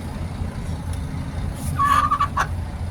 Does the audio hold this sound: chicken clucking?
yes